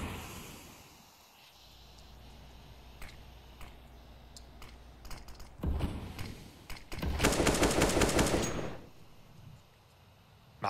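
Gunfire in the video game CS:GO during a pro Mousesports versus Evil Geniuses match on the Nuke map, with scattered single shots building to a sustained loud automatic burst, then fading to quiet game ambience.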